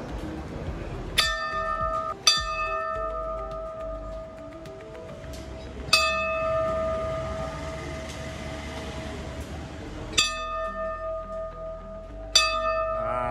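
Temple bell at the Kalkai Devi temple in Khed rung by hand, five or six loud ringing strikes spaced a few seconds apart, each leaving a long, shimmering metallic decay, with faint background sounds and no talk.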